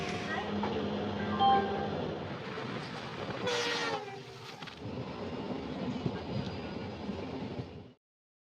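The 13182 Silghat–Kolkata weekly express passenger train rumbling along steadily at night at close range, with a horn blast midway and faint rhythmic wheel clatter, before the sound cuts off abruptly.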